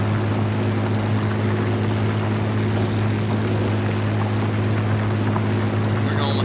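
A 1950s-era tractor with a naturally aspirated diesel engine pulls a plow in Farming Simulator 19, giving a steady, droning engine hum with a strong low rumble that holds constant throughout, with no voices.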